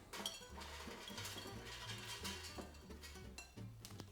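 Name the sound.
crispy herby stuffing balls being put into an air fryer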